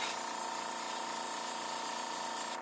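Createx airbrush paint sprays from an airbrush in a steady, close, continuous hiss with no gaps, alone and without talk, while a Godzilla wallhanger is being painted.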